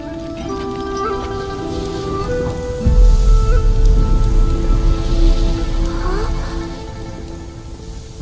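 Rain falling in a steady patter that grows heavier and louder around midway, mixed with tonal music and a low rumble beneath.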